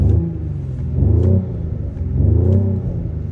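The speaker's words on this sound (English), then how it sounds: "So I'm gonna rev it right now on comfort mode. Sounds good, but let's put it on sport plus." A 2024 Mercedes-AMG GLE 53 Coupe engine revs in sport plus mode, with two strong, throaty rev swells rising and falling in succession over a steady idle rumble, close and loud, with no talking.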